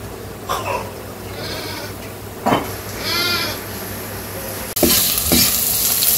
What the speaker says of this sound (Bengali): পেঁয়াজ আর কাঁচা মরিচ ভেজে দিই।